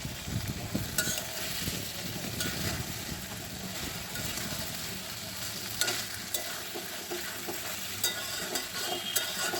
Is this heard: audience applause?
no